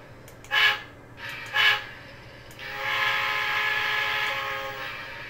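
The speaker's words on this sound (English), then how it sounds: "that is definitely a different whistle" A DCC++ model train sound decoder plays a whistle, with two short toots followed by a longer sustained blast, heard close and fairly quiet.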